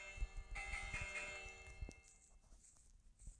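A small bell held by a llama in Minecraft rings with bright, sustained metallic tones. It sounds quiet and thin, with faint strikes and lingering overtones.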